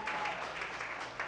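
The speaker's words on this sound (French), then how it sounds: "On applaudit Platel" Brief applause for a contestant at a national dialogue competition, a dense patter of clapping at moderate distance, steady and fairly faint.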